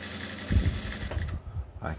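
Sewing machine stitching a jungle hat, running in a steady close mechanical whir with rapid needle chatter through the short stretch, while someone talks over it.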